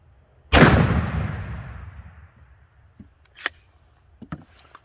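A Remington 870 Supermag shotgun fires a single 3-inch slug at a lead plate, one loud blast with a long decaying echo, followed by a few faint clicks and handling noises.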